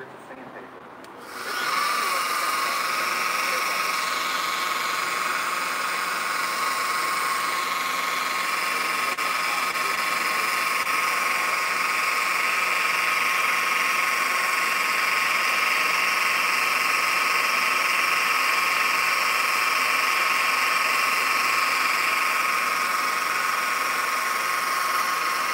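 Rotary polisher working on metal, a steady high-pitched whine with a constant motor hum that starts after a brief moment and holds evenly and close throughout.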